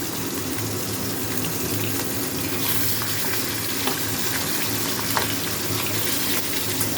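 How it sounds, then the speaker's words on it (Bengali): Hilsa fish pieces, rubbed with salt and turmeric, frying lightly in a pan, giving a dense, even sizzle with occasional sharp pops, close and continuous. "মাছগুলো কিন্তু আমি খুব বেশি লাল করে ভাজবো না হালকা ভাজবো"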